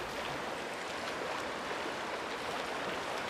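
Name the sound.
rushing water current from the video game Uru: Ages Beyond Myst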